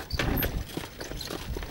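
Horse hooves clip-clop at a steady walking pace while a horse pulls a cart, the footfalls fairly close and moderately loud over a low rumble of wheels and background noise.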